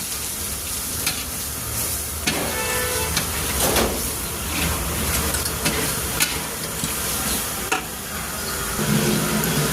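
Turmeric and chili powder fry in a pan for a Bengali dish, giving a steady loud sizzle with scraping stir strokes and occasional clatters, close and continuous with no talking.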